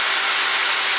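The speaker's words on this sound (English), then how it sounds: "just drill out the case as you normally would." A drill whirs steadily, boring out a force-on-force training ammunition case for reuse, a loud continuous high-pitched whine up close.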